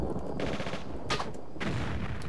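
Gunfire from Tomb Raider 4 as an enemy is shot in the Sphinx Complex, with three sharp bursts of shots spaced about half a second apart, fairly close and crisp against a low game background.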